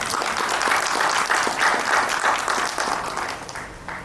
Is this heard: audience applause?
yes